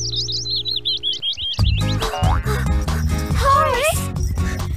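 Brown birds chirping in a quick run of high, warbling tweets, apparently imitated by girls singing; the chirps are soon joined by loud music and voices.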